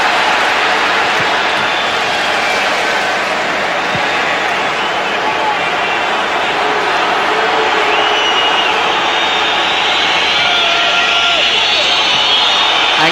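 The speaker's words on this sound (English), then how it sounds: "Anxious whistling from the crowd." A large football crowd at a Premier League match between Manchester United and Liverpool whistles anxiously, a continuous high, shrill wash of sound over the stadium roar, with a commentator talking across it.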